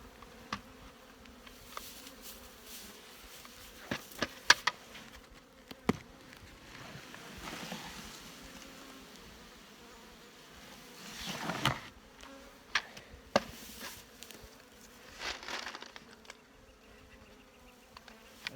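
Bees around backyard hives hum faintly and steadily, with scattered clicks and knocks and one brief louder swell of buzzing.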